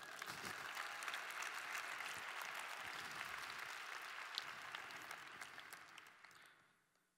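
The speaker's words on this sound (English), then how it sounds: "Let's clap it up for her." An audience claps at a Boston keynote conference, a dense sustained wash of applause filling the hall for several seconds before tapering off and fading out.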